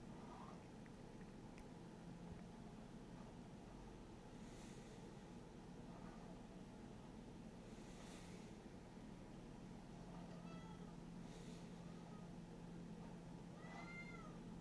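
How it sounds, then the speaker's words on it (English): A cat named Lorenzo meows several times at a distance over a steady low background hum, the calls spaced out with rising and falling pitch, no one talking. "I hear Lorenzo meowing."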